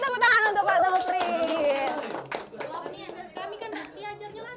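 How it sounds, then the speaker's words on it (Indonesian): A group of children and adults claps for their teacher, Pak Nofri, during an online school event, with a brisk patter of hands mixed with excited chatter and voices, close and lively, fading gradually. "tepuk tangan untuk Pak Nofri"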